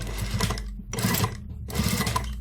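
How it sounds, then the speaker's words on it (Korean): A sewing machine stitches a seam on wide-leg pants in three fast, steady runs separated by short pauses, close and fairly quiet. "일단 자, 이렇게 박아주고 스티치, 이쪽으로 스티치."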